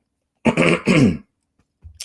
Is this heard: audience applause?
no